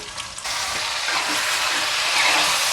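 Chicken pieces frying in hot oil for a drumstick chicken curry, giving a steady loud sizzle that swells suddenly near the start and keeps hissing evenly after that, with no voices.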